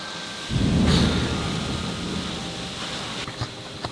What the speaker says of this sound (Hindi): भयंकर बारिश भाई, बहुत भयंकर।